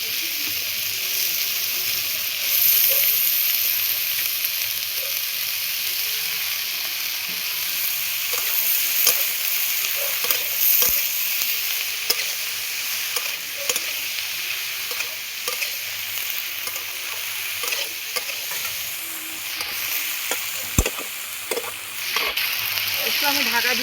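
Ridge gourd frying in a pan with chili powder, a steady loud sizzle running throughout with scattered scraping clicks of stirring and some background voice.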